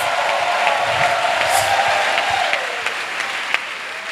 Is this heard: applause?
yes